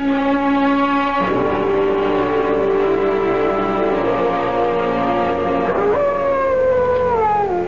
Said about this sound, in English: What the devil is the matter with that dog, Chadsworth?